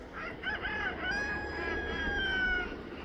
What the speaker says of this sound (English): I hear you, rooster.